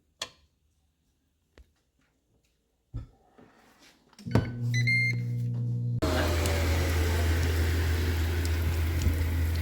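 Air fryer oven, first quiet with a few faint clicks, then a beep and a steady loud fan-driven hum that continues through the rest, a low mechanical drone close by.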